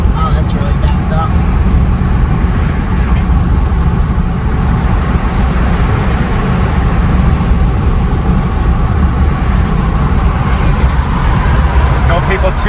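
Steady low roar of road traffic, likely stalled and backed up, running continuously and fairly loud throughout with faint voices underneath.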